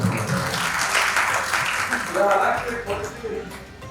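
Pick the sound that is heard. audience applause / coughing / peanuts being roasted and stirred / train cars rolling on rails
audience applause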